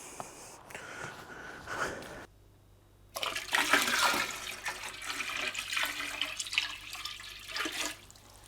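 Barleywine wort from a brewing mash pours and drains out in a rushing, gurgling stream of liquid, starting after a brief quiet gap and continuing fairly loud and close.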